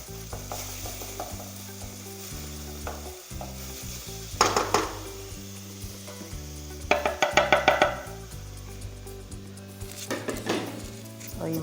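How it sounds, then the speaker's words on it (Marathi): Mixed vegetables and masala frying in a pan for a vegetable bhaji on a lowered gas flame, a constant sizzle broken by bursts of loud clattering stirring, with no speech. "ही मातशें तळशिया."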